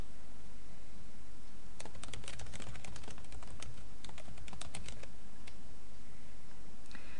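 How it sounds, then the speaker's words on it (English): Rapid clicking keystrokes on a computer keyboard as an ID is entered into an expense form, a dense run of close taps over steady background hiss, then tapering off. "type in an assignment ID and/or an ME ID if you have one for your invoice"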